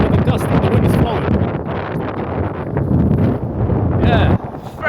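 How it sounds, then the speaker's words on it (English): Strong gusty wind at sea buffets the microphone in a continuous loud roar with surging gusts, close and dominant throughout, with a brief higher whine near the end. "You can just tell where the gust and the wind is flowing."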